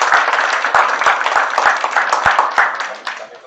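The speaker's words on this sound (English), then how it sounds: "Small applause, please." A conference audience gives a warm round of applause, with many hands clapping together in a steady, fairly close rattle that gradually thins out and fades near the end.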